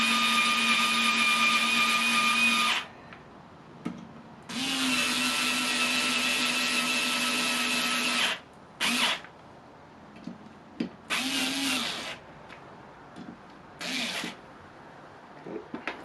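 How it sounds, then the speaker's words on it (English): A power driver sends screws into a Z axis upgrade for a QueenBee machine in bursts: two long whining runs of several seconds, then shorter spurts with quiet gaps between them. "I'm just using this just to get these screws started, because otherwise you spend about several minutes screwing them in."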